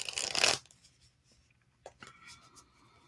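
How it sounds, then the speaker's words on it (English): A brand new tarot card deck is shuffled in a quiet room, giving a short riffle burst followed by a few soft card flicks and taps. "And I'm shuffling it very well because it's a brand new deck."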